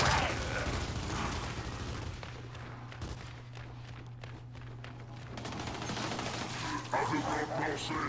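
Automatic gunfire from a machine gun in the multiplayer shooter Gears 5, a dense rattling fusillade running steadily throughout alongside mechanical clatter, with no pauses.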